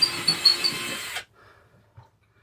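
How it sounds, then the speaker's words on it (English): A power drill fitting kitchen cabinet handles in an RV whirs loudly for about a second with a harsh, steady buzz, then stops, followed by near silence and a few faint knocks. "you got him drilling"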